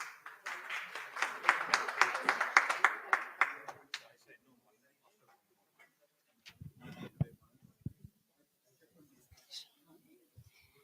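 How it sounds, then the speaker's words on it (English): An audience at a festival event claps in a dense burst of applause that fades out after about four seconds. Scattered small knocks and faint rustles follow in a quiet room. "Let's give her another round of applause, please."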